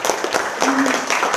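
A crowd claps at a PKK women's community gathering in Gorontalo, cheering for women farmers. The applause is a dense, steady wash of many hands that stays even for the whole moment, with a voice faintly mixed in.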